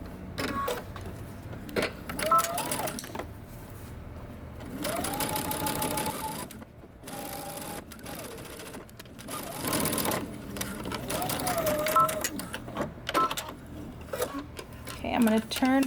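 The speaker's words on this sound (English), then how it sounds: "we're going to stitch down the other side" A home sewing machine stitches down the seam allowance of a knit top in several bursts, its motor whirring and needle clattering up close between short pauses, with someone talking over parts of it.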